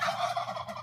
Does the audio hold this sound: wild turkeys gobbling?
yes